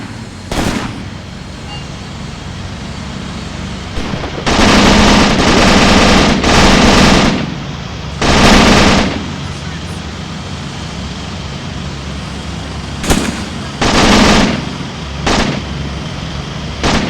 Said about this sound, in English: Still got some tracer rounds going out,